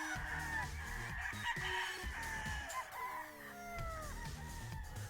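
Rooster crowing close by in a farmyard among other fowl, a drawn-out cock-a-doodle-doo with clucking around it and no talk over it.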